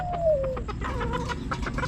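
A small chicken gives a quick series of soft clucks up close, with a brief rising call at the start.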